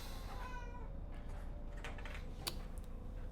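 A cat meows in the video game Inscryption, a few short, faint meows over a steady low background hum with soft clicking, no one talking.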